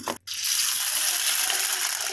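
Chana dal being washed in water, a short clack and then a steady rushing swirl of water over the lentils, loud and close with no talk.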